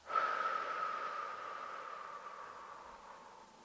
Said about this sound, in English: And then when you breathe out